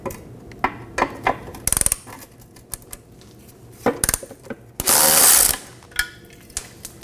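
A ratchet turns bolts out of a bracket on a 2015-2023 Nissan Maxima 3.5L V6 during vapor canister vent solenoid replacement: scattered clicking bursts, a short fast ratcheting run, and one louder sustained metallic rasp, close and with no talk.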